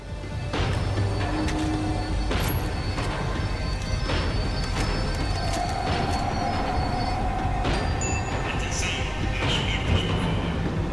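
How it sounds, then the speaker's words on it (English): Tram from the video game Max Payne 3 rolling as it slows down, with a steady loud rumble of wheels on rails, intermittent clanks and brief metallic squeals throughout. "The tram was slowing down, and I'd only just gotten on board."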